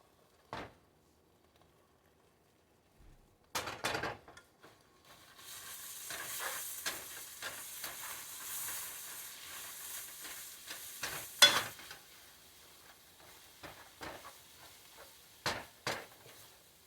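A Thai omelette with moringa and cha-om frying in a pan gives a soft, continuous sizzle, broken by sharp clacks and scrapes of a utensil stirring and knocking against the pan.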